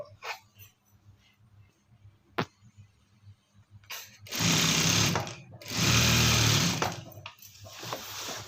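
A sewing machine stitches the fall onto a sari in two loud, sustained runs of rapid mechanical whirring, each lasting over a second, with short quieter handling sounds before and between them.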